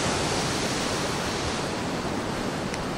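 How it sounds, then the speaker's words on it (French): Huge Atlantic waves breaking at Puerto de la Cruz, Tenerife, heard as a loud, unbroken roar of surf and rushing water without any talking. "Regarde, les vagues, elles sont énormes."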